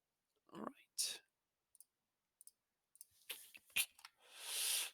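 Calculator keys are tapped in a few quick, quiet clicks spread over several seconds, close up, with soft speech around them.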